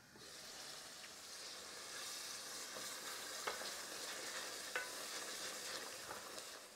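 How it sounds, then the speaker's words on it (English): Minced keema meat fries in a pan over a medium gas flame, giving a steady close sizzle with occasional stirring scrapes and small pops. "the keema has been cooking away for a good 8 to 10 minutes"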